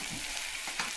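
Onions frying with salt in a pan make a brief, soft, steady sizzle, with a light stirring scrape partway through and no talking.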